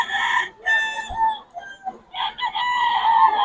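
Chickens cluck and a rooster crows nearby in the rain, several overlapping calls in a steady run with no talking.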